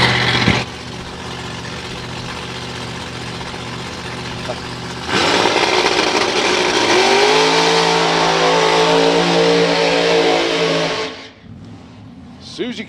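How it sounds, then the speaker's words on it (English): Supercharged outlaw drag racing car doing a burnout at Santa Pod Raceway, a loud sustained engine roar that builds and climbs in pitch at mid-clip, then cuts off sharply near the end, with commentary over the top. "doing a slightly more sedate burnout than the young lady from the Netherlands just did"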